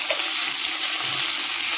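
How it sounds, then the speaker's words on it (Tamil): Tomatoes and green chillies sautéing in a pan with onions, a continuous close sizzle and hiss with soft stirring underneath and no pauses. "தக்காளி போட்டு நல்லா கிண்டிடுறோம்."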